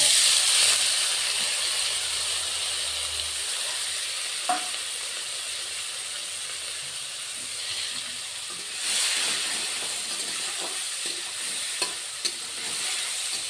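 Chopped onions hit hot oil after dried red chillies, giving a loud, continuous sizzle that swells again partway through, with a few light utensil taps and no talking.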